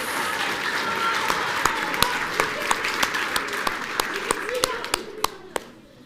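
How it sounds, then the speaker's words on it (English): Audience applause at a Battle of the Books competition, a steady wash of clapping topped by a few loud, regular individual claps that taper off near the end, with voices underneath. "we need to give ABC Reads some big applause"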